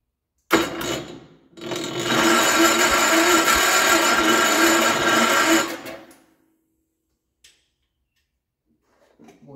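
Gravely 814 garden tractor engine, left sitting outside for years, cranks over with a steady loud mechanical churn for about four seconds after a short burst, then stops without catching, leaving near silence.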